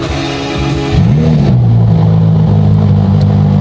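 A Ferrari engine cold-starts and revs sharply, then settles into a loud, steady high idle, very close and dominating the sound.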